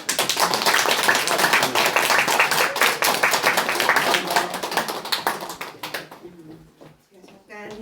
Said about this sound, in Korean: 뜨거운 박수 한번